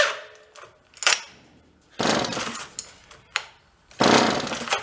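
A John Deere chainsaw pulled from the garbage is cranked with the choke on: repeated loud rasping pull-cord bursts, each a second or so, separated by short pauses, with no engine catching.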